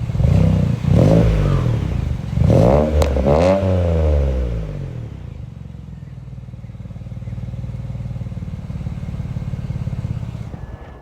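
A BMW 335i engine revs hard several times in quick succession, loud and close, then settles into a steady rumbling idle with a slight rise toward the end.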